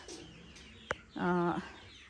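Hungry domestic chickens cluck for feed, a short burst of throaty clucking calls after a sharp knock, heard nearby against quiet outdoor background.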